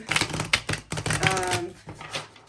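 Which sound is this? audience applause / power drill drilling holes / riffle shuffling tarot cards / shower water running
riffle shuffling tarot cards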